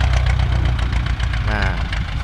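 A Ford tractor engine idles loudly up close, its exhaust giving off a deep, steady, throaty rumble with a slight knocking pulse.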